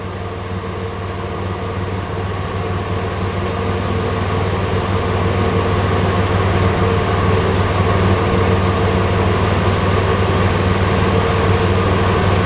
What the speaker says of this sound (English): The car's idled down to its normal idle position